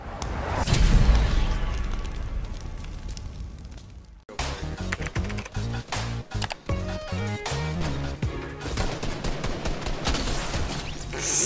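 Flare gun firework shots go off in the Fortnite video game, a loud burst followed by a rapid volley of crackling bangs and booms over background game music, with no talking.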